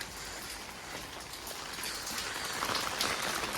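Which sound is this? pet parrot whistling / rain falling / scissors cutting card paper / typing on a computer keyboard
rain falling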